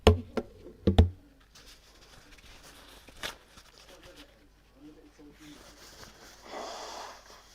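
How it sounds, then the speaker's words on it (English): Someone blows their nose in a few short, loud snorting bursts close by at the start, followed by quieter sniffs and rustling. "Need to blow my nose."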